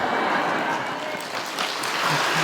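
Applause fills a church service, a dense continuous clapping from the congregation that stays steady and fairly loud throughout, with faint voices mixed in.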